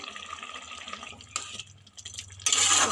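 Rohu fish curry being stirred in a pot after fresh coriander leaves are added, with soft wet scraping and clinks, a faint liquid bubbling underneath and a brighter splashy burst near the end.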